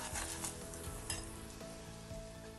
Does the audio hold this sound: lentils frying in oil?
yes